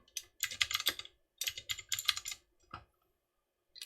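Quick bursts of typing on a computer keyboard, close and fairly quiet, with rapid clustered key clicks separated by short pauses and a few isolated taps.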